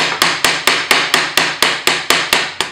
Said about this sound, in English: I'll get my little anvil thingy. And I'm just going to hammer, especially around the curve